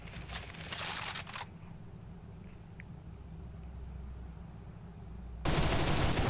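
Autocannons firing in a video game, dense rapid bursts of loud shots at the start and again at the end, with a steady engine-like rumble between them.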